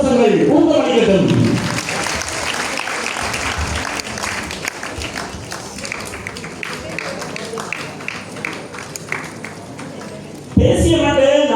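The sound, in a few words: applause for a student singer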